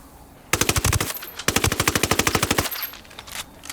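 Submachine gun fire in Ghost Recon Wildlands, two loud rapid bursts, the second longer and steadily rhythmic, sharp and close.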